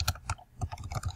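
Keystrokes on a computer keyboard while entering code, a quick irregular patter of close, crisp taps over about a second, with no talk.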